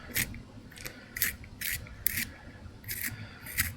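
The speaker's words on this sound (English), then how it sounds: "Pencil sharpening noises." Close, repeated rasping scrapes of a pencil turned in a pencil sharpener, six or seven brief strokes in a slightly uneven rhythm over a quiet background, with no voices.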